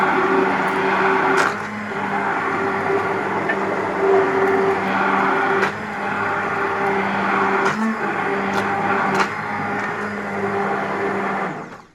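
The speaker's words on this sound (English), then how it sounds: "use the blender to whisk that in" An immersion blender whisks salt into a pot of homemade soup, a steady loud motor whir running throughout with brief pitch dips and bumps as the blade moves through the liquid.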